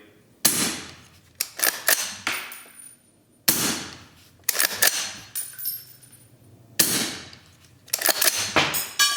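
Suppressed .308 rifle with a Huxwrx Ventum suppressor on a 12.5-inch barrel, firing subsonic rounds at night: three sharp shots a few seconds apart, each followed by several quick metallic rings of bullets striking steel targets downrange.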